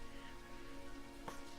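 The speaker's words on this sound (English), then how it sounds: "it's raining right now, isn't it? Lightly." Light rain played as a background ambience during a tabletop role-playing game session, a steady soft patter throughout with one brief sharper splash near the end, faint and without speech.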